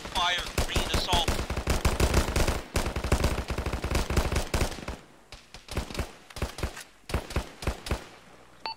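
Squad-level small-arms fire in Arma from a ShackTac team laying down suppression: dense, continuous bursts of rifle and machine-gun fire, loud and close, thinning into scattered separate shots in the last few seconds.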